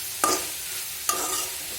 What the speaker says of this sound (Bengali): আর এই দেখো এখানে শাক রান্না করছি